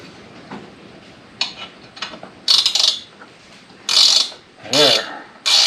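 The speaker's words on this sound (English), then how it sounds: "then you can ratchet it out" A ratchet wrench works a nut on a Subaru front wheel bearing, giving several bursts of quick close ratcheting clicks separated by brief pauses and softer workshop handling noise.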